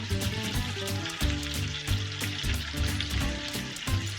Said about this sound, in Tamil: வெங்காயம் கொஞ்சம் நல்லா வதக்கணும்.